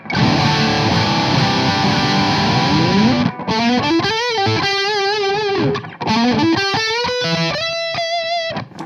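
Distorted electric guitar through a humbucker pickup in position 1: thick strummed chords ringing out, then sustained bent single notes and melodic phrases with a heavy, saturated tone.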